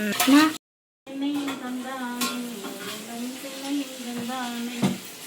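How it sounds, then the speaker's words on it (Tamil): Ridge gourd sautéing in a pan gives a steady sizzle with spoon stirring, cut by a brief silence near the start, then continuing close and fairly loud. "இப்போ நல்லா வதக்கியாச்சு, சூப்பராக வதங்கிருச்சு."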